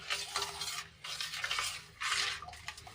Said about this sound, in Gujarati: આ રીતે હલાવીને સાબુને આપણે સારી રીતે ઓગાળી લઈશું